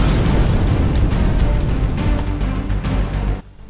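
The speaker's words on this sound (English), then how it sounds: "Do we still have explosions in this?" A loud, close explosion with a rumbling, crackling blast that sustains for several seconds, then cuts off abruptly into near silence.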